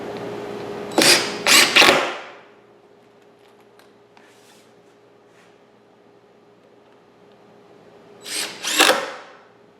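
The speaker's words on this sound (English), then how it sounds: "And we'll just put a few screws in it," Power drill driving screws into a wooden dolly built for a large bandsaw, two short clusters of quick whirring bursts near the start and end with quiet shop hum in between.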